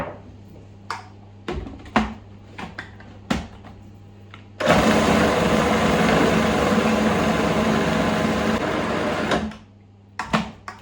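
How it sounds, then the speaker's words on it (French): A kitchen mixer whirs loudly and steadily for about five seconds, blending eggs and oil for an apple cinnamon cake, framed by scattered clicks and knocks before and after. "Les œufs et l'huile. Et je vais tout mélanger."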